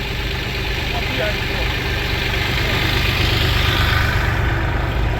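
An MTZ 82 tractor engine runs steadily at a low, rough idle during hay baling, loud and close throughout, with people talking over it.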